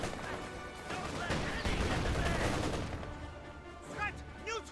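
Gunfire and explosions from a Company of Heroes 2 battle form a dense, continuous clatter with heavier booms, and brief game voices cut in toward the end.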